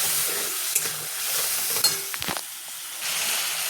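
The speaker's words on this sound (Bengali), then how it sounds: "দেখো মশলাটা কষাচ্ছে" Spice paste for a Bengali fish curry sautéing in a pan, a steady close sizzle broken by a few scraping stirs and a brief clink, with no talking.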